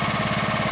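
A Duromax XP13000E generator engine runs steadily, a loud close chugging throb with a fast even pulse, heard alone for under a second.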